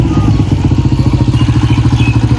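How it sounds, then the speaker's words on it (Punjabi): A motorcycle engine idles close by under repair, a loud, steady, rhythmic thumping putter with light clatter and no one speaking over it. "ਆਪਣਾ ਮੋਟਰਸਾਈਕਲ ਠੀਕ ਕਰਾ ਰਹੇ ਨੇ ਜਨਾਬ।"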